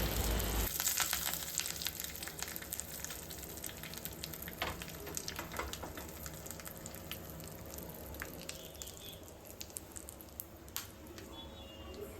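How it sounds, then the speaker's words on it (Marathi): Soft, steady frying sizzle of cumin, mustard seeds and curry leaves tempering in hot oil, with faint crackles and pops close by, continuing evenly without talk. "जी आपली फोडणी आहे ना त्याच्यामध्ये जिरे मोहरी कढीपत्ता हे सगळं काही ॲड करते"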